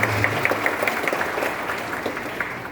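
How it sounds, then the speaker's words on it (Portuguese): Applause fills a city council chamber: steady, moderately loud clapping from many people that gradually thins out, with no speech over it. "Uma grande salva de palmas para Gaspar Dias Ferreira."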